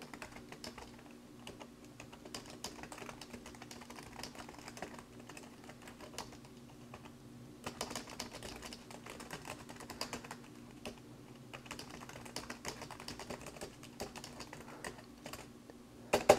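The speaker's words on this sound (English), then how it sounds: "I'm going to try out the keyboard and show what it's like for you folks" Fingers tap on the built-in keyboard of an Ematic EWT826BK 8-inch Windows 10 Intel Atom tablet, producing quiet, close, irregular clicks in short runs with small pauses throughout.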